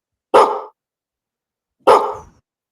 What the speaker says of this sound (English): That could be like a Rottweiler.